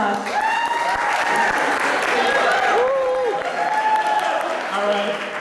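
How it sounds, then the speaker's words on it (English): Steady applause from a conference audience, dense and sustained for the whole stretch, with scattered voices calling out over the clapping. "give yourselves a round of applause"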